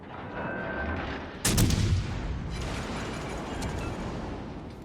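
Ship artillery in the naval battle game World of Warships: Legends fires shells, one loud booming salvo near the middle followed by rumbling, over continuous game ambience with fainter distant shots later.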